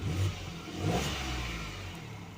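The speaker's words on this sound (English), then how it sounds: "how about we just give it a tiny rev just to see what it's all about" A Peugeot 108 city car's small engine gives a brief rev, rising and then settling back toward idle, heard from nearby with low rumble throughout.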